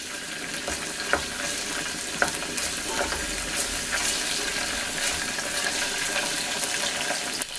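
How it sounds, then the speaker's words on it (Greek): Tomato paste and garlic sauté in a pan for meatballs in sauce, with a steady close sizzle, scraping stirs and occasional clicks of a utensil against the pan, and no voices. "Θα ρίξω μέσα μισή κουταλιά της σούπας πελτέ και το σκόρδο. Θα τα σοτάρουμε για λίγο"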